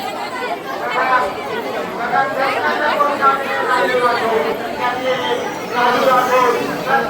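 Large crowd of devotees at Kelamba Devi temple, Kharoshi, their many voices merging into a loud, continuous, close babble with no single voice standing out.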